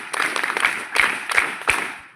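Students clapping for their teachers at a Class 10 and 12 send-off ceremony, a loose crowd applause rising in uneven bursts with several sharper swells, steady and unrhythmic, no speech over it.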